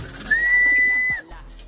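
A single clear, steady whistled tone lasting close to a second rises from a pigeon loft. It could be a bird call or a human whistle calling the pigeons, followed by a faint thump.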